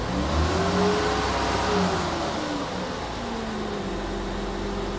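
Honda Odyssey engine idling steadily after a misfire code was cleared, a continuous low hum with faint tonal harmonics and no speech over it.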